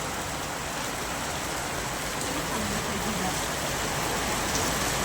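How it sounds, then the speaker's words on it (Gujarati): A steady roar of heavy rain fills the air in a sudden afternoon downpour, thick, constant and fairly loud, swelling slightly toward the end with no break. "તો ગાઈસ વરસાદ તો વધ્યો"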